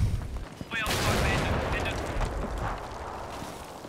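Artillery fire in the war game Combat Mission Shock Force: a sudden heavy blast followed by a long rolling rumble and crackle of impacts, with distant detonations fading.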